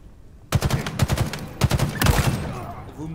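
Rapid automatic gunfire from a weapon in Halo Infinite, loud close bursts of quick repeated shots in two or three volleys, with a brief pause between and a fading tail.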